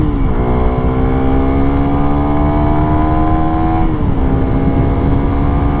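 A Suzuki Raider 150 Fi motorcycle engine droning loud and close while riding, its pitch climbing steadily as it revs, then dipping briefly at a gear change before rising again.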